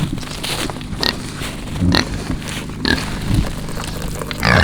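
Pigs grunting and snuffling close by in short low bursts, with rustling and handling noises in between; no talking.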